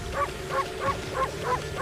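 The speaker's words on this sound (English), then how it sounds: "Bark." A dog in the video game Okami HD gives six quick, evenly spaced barks in a steady rhythm, moderately loud over a faint ambient backdrop.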